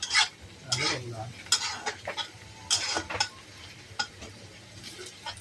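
Chopped onion frying in a pan is stirred with a utensil, making irregular scraping strokes and clinks over a low, continuous sizzle.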